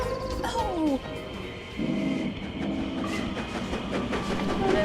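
Freight train hauling fuel and coal wagons along a railway, a continuous rumbling roll with whistle-like tones and rail clatter, mixed with voices and cartoon sound effects.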